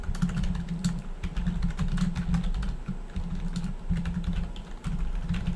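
Rapid, steady typing on a computer keyboard during Minecraft server admin setup, dense clattering keystrokes running continuously and close up with no talking.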